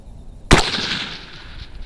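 A single sharp, loud sniper rifle shot fired from a bipod at a tactical games sniper challenge in Alabama, followed by a rolling outdoor echo that fades over about a second.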